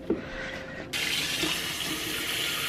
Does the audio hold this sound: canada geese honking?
no